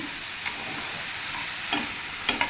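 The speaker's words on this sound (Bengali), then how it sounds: "এবার আমি ভালো করে ভাজা ভাজা করে ঢাকা দিয়ে দেবো গ্যাসটা বাড়িয়ে দিলাম" Snake gourd curry with salt and turmeric frying on high heat, an even hissing sizzle punctuated by a few brief stirring clicks near the end, close and without speech.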